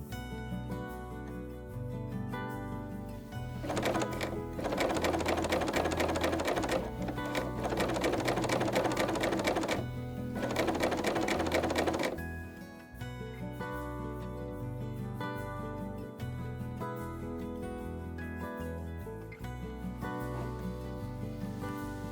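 A BERNINA overlocker gathering fabric with its gathering foot runs in a steady mechanical whir, rising into louder bursts of fast stitching before settling back to a lighter hum, with no speaking.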